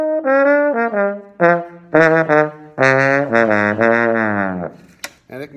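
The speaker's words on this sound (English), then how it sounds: "This is a trombone right here with a slide." Slide trombone played in a jazzy, bluesy style, a solo phrase of sustained and sliding notes rising and falling, loud and close, alone with no talking.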